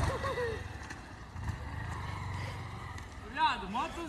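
A brand-new motorcycle is ridden past with a low engine drone that rises and falls, while someone talks over it throughout.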